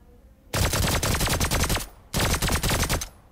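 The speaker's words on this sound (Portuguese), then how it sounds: "Tiros lá fora, viu?" Automatic gunfire in the PvP shooter game Badlanders, two loud sustained bursts of rapid rounds separated by a short pause, with no talk over them.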